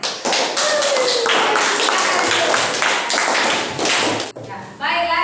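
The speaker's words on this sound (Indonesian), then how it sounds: "Nah, kita berikan tepuk tangannya." Applause from a school classroom audience for a group presentation, a dense burst of many hands clapping loudly for about four seconds, then fading as a voice and other classroom sounds take over.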